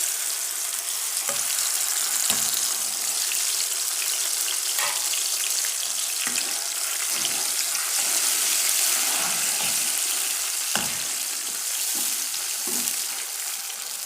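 Tomato paste fries in a pan for sarson ka saag, a steady close sizzle with occasional sharp pops and stirring clicks continuing throughout.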